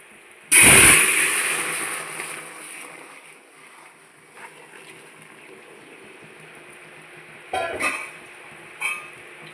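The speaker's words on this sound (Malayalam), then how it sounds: "ഇതിലേക്ക് വെള്ളം ഒഴിച്ചു കൊടുക്കാം." Water is poured into a hot pot of oil with cinnamon, cloves and cardamom for chicken biryani, a loud sudden hissing splash that fades over a few seconds, followed by a couple of later clatters.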